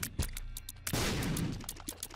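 A bomb blast in The Binding of Isaac: Afterbirth, a loud booming explosion about a second in that rumbles for half a second and fades, among short percussive game sound effects.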